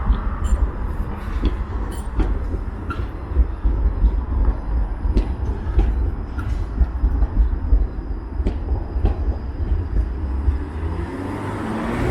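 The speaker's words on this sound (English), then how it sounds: "Is that the King or is that the Queen streetcar?" A Toronto streetcar rolls along King Street downtown. A steady rail rumble and wheel noise rise from close by over busy street ambience and last the whole stretch, with no talking.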